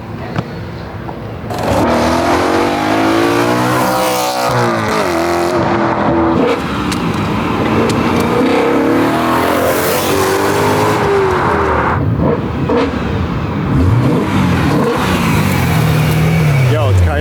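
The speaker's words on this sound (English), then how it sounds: "You get a ton of intake noise from the Eventuri carbon plenum." A modified BMW with an Eventuri carbon intake plenum revs loudly and repeatedly, the engine note rising and falling in sharp sweeps, close and dominant throughout.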